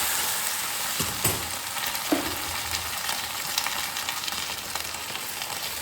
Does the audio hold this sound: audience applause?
no